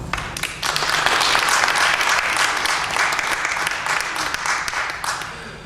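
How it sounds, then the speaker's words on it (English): Applause at a memorial gathering as a speaker is welcomed to the front, a dense roomful of clapping that swells quickly and holds steady, with some voices mixed in. "Give her a round of applause for Monia."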